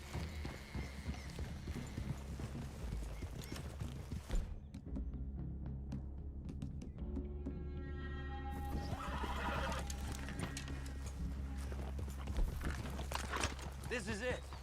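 In Red Dead Redemption 2, horses clip-clop and neigh in a forest clearing, with hoofbeats and a whinny near the middle. Characters talk throughout.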